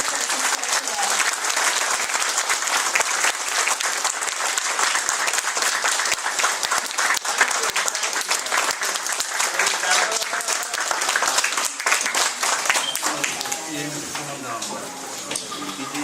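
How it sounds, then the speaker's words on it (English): Sustained, loud audience applause at a cultural celebration in New York, the crowd's clapping holding steady for a long stretch before thinning slightly near the end. "let's give a big round of applause for Father John and his amazing team members"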